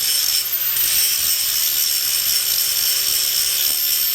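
An angle grinder cutting a bevel, its steady high-pitched whine holding loud and unbroken throughout with no talking.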